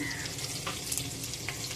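Cumin seeds, a few fenugreek seeds and chopped green chili sizzling in hot tempering oil, a faint, even crackle with a couple of small clinks.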